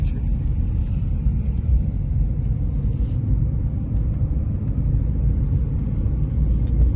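A car in a driving lesson runs with a steady low engine rumble from inside the cabin as the accelerator is pressed, holding fairly loud and even with no talk.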